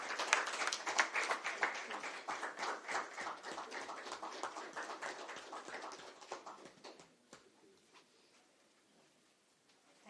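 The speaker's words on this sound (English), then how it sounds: "A big round of applause, please." Audience applause at a Business Continuity Awareness Week 2025 live event, dense clapping that starts strong, thins out gradually and fades to a few scattered claps over about ten seconds.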